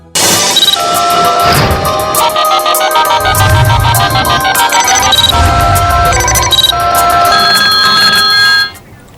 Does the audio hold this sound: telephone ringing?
yes